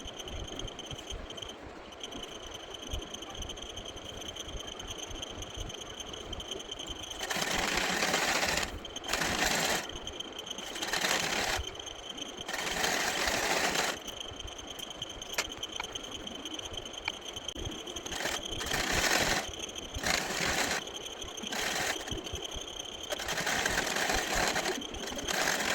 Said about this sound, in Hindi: फोल्ड करके आपको इस पर सिलाई लगा देनी है